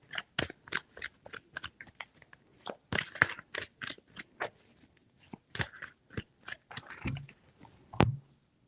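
A tarot deck is shuffled by hand, giving a close, quiet series of crisp snapping and flicking card sounds in uneven bursts, with no voice.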